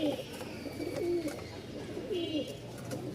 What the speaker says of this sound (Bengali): এখানে হচ্ছে মোট 2 জোড়া কবুতর আছে, এক জোড়া হচ্ছে ঝর্ণা শার্টিং, এক জোড়া ব্লু শার্টিং।